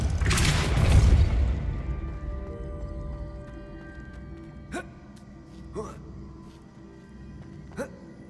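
Spells are cast in Hogwarts Legacy on PC, opening with a heavy booming blast that rings out and decays, followed by three short sharp magical impacts spaced a second or two apart.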